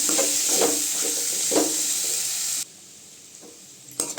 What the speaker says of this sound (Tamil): நல்லா ஃப்ரை ஆகட்டுங்க.